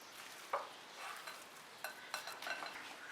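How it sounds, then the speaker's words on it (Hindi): Eggs, vanilla essence and oil are whisked together for brownie batter, giving faint, quick clicking and tapping strokes against a bowl with brief louder knocks. "अब इन सब को विस्क के साथ मिक्स करेंगे।"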